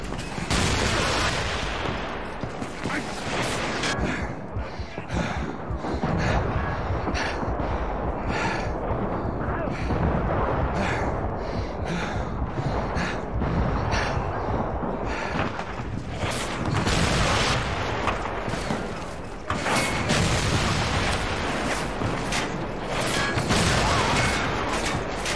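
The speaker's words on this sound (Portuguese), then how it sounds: "atirar com canhão é difícil porque você tem que não é reto" Cannon fire in the Wild West shooter Call of Juarez: Bound in Blood booms repeatedly amid dense, crackling gunfire and crashes, loud and continuous, with a player talking over it.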